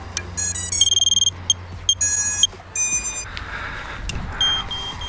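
A GEPRC MX3 Sparrow FPV drone on a 3S 550 mAh battery gives a series of short electronic power-up beeps and tone sequences, close and clear, over a low background hum.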